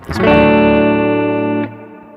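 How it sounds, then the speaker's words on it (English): Electric guitar through an Elevate effects reverb pedal: a single sustained chord rings out loud and clear with a reverberant tail, cut off after about a second and a half, leaving a short fading decay. "So let's go ahead and move on to the reverb mix."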